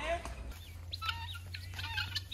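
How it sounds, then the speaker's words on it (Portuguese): Guineafowl on a rural farm cluck and chirp in quick, scattered bursts while being fed, mid-distance against a steady low background hum, with no talk over them. "as galinhas da Angola que tá aí hoje."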